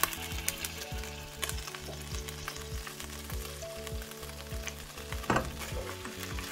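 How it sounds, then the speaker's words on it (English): Two cans of tuna stir-fry in a hot wok, giving a steady close sizzle broken by regular scraping and stirring strokes and occasional louder clatters of the spatula against metal. "Once your wok is hot, add 2 cans of tuna."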